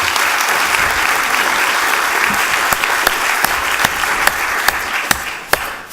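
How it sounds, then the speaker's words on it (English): An audience at a school board meeting in Laredo, Texas applauds steadily after a judge's swearing-in ceremony, with a few sharper individual claps standing out toward the end. "Another round of applause for the Honorable Judge Chuy Garza for swearing in these three."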